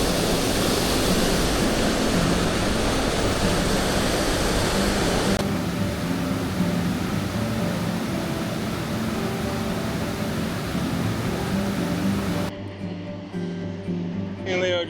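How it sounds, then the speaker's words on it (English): Waterfalls at a rough hiking trail, a loud, dense, unbroken roar of rushing water filling the whole span, close and steady, easing slightly near the end. "Me and Leo are just gonna sit here and enjoy these waterfalls for a few minutes."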